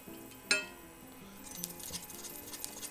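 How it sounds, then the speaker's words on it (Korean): Ginkgo nuts with a little sesame oil roll and clink in a pan: a sharp glassy clink, then faint pattering and ticking as the nuts tumble and start to roast. "은행을 볶아서 껍질을 까겠습니다"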